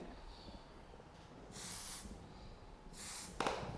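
Texture spray hisses onto hair in two short bursts about a second apart, close and fairly soft against a quiet background.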